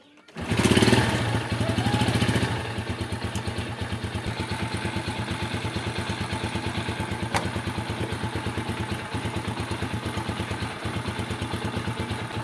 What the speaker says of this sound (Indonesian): Kita nyalakan dulu motornya